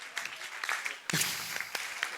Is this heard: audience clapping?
yes